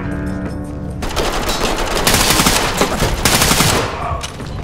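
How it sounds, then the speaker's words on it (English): Heavy gunfire rattles in a shooter video game, with dense rapid automatic bursts that run almost continuously, loud and close, with no talk over them. "And they just shot out my helmet."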